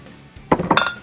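An ounce of vodka goes into a cocktail glass at a bar, giving a quick cluster of bright glassy clinks and knocks close by after a brief quiet moment, lasting about half a second.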